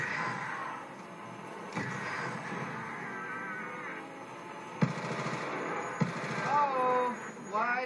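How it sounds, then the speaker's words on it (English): Gunfire in Call of Duty Black Ops 2 rattles in quick bursts and single shots at moderate loudness, mixed with game effects and a person talking over it. "why did I fire off all my bullets?"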